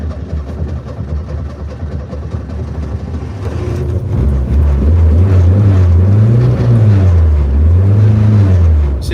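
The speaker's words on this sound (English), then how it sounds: "if I try to start it now, it'll go" A broken-down Renault car being started, the engine cranking then catching into a loud, close idle whose pitch swells and dips in slow repeating waves.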